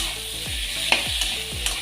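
Cut ridge gourd hits a hot pan, sizzling steadily while a spatula scrapes and stirs in several repeated sweeps, close and clear.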